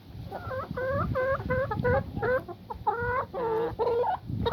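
Wyandotte hens cluck and cackle close by in a farmyard coop with straw bedding. The repeated clucking phrases come in uneven bursts with brief pauses between them, and no one speaks.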